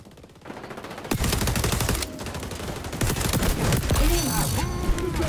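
Shotgun fire in the video game XDefiant, with loud repeated blasts and rattling shots mixed with other gunfire in a busy firefight, building after a quieter opening, while players talk over it.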